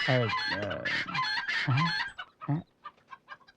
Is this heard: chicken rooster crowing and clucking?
yes